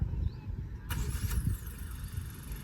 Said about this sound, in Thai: ก็คือสตาร์ทด้วยรีโมทครับ